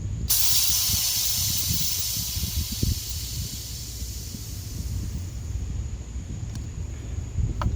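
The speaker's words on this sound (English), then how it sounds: "you're gonna release the pressure with this manual valve" Pressure hisses out of the manual valve on the coolant expansion tank of a BMW X3 E83 with an M54 engine. A loud, sudden burst of hiss fades over several seconds, with faint clicks at the end.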